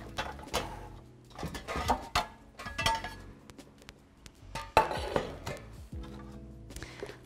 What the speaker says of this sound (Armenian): Ես թավան պետք է իհարկե բերեմ, ինձ թավա է պետք։